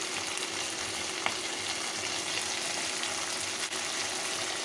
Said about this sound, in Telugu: మంచిగా ఆయిల్లో ఫ్రై అయిపోయింది ఫ్రై అయిన తర్వాత ఇప్పుడు కరివేపాకు పుదీనా కూడా వేస్తున్నాను